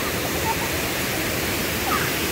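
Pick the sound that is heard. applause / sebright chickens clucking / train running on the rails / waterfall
waterfall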